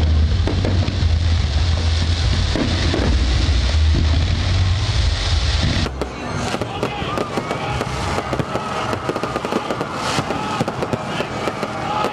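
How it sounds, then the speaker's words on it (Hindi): Independence Day fireworks burst over the National Stadium in Karachi at midnight. A loud, dense run of booms gives way to continuous crackling pops, with some voices faintly audible. "रात 12 बजते ही नेशनल स्टेडियम में आतिशबाजी का मुजाहिरा"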